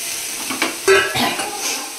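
Broccoli being sautéed in a pan, with a steady sizzle and a few stirring scrapes and clinks, loudest near the middle, close and alone.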